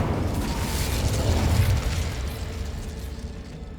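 A fire spell, Incendio, is cast in Hogwarts Legacy as a loud, roaring burst of flame that peaks in the middle and then tails off into a broad rushing fade, with no talk.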